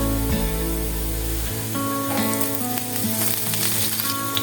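Green chillies and curry leaves hitting hot oil with browned ginger and garlic, setting off a loud, steady sizzle with crackling spatters, while a sustained tonal hum fades out partway through.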